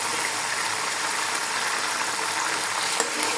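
Small cut pieces of mutton (goat meat) frying in a pan for haleem, a dense continuous sizzle with soft scraping as they are stirred, loud and close throughout with no voices.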